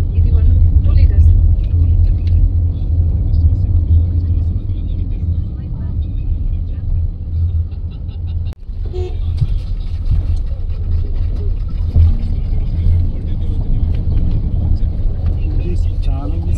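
A 2-litre petrol automatic car driving gives a steady, loud low engine and road rumble throughout, with voices talking over it.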